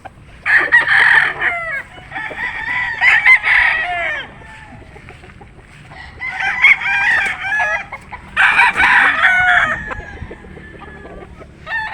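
A McLean gamefowl rooster, an imported street-bred bird, crows close by in several long, loud bursts with pauses between, over faint background hum.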